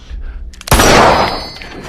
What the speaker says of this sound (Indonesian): Mani yang panik langsung menembakkan pistolnya ke atas.